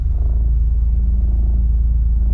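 A 1988 Honda Accord LX engine idles after starting, a steady low rumble with a faint mechanical clatter, close and constant, no voices over it.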